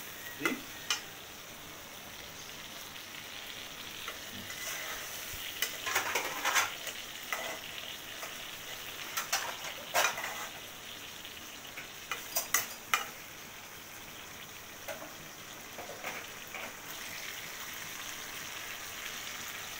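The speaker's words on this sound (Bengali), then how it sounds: "তো আমি মাছটা অল্প কষিয়ে নিলাম" Hilsa fish sizzles and sputters steadily in a pan with taro, with a utensil stirring and scraping at intervals throughout; no one speaks.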